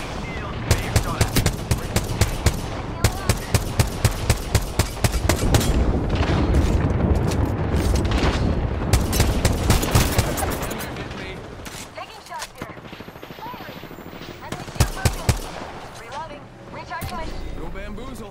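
Rapid gunfire bursts in the battle royale shooter Apex Legends, sharp repeated shots in quick runs, then sparser cracks after a pause, with voiced game callouts speaking over parts of the action.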